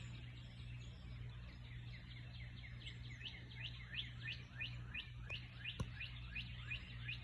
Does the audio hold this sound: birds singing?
yes